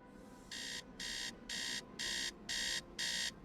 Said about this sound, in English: Beep beep beep. Wakey wakey, it's time to get up.